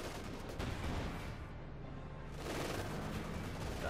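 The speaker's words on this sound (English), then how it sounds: "Blasting with the machine guns." Machine guns fire in a Company of Heroes 2 battle, a dense, continuous rattle of gunfire and battlefield noise that holds steady, briefly thins in the middle, then swells again.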